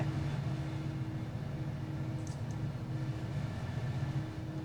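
An EMD diesel locomotive in the train simulator game Run 8 hums and drones at a steady low pitch, an even, continuous rumble with no talk.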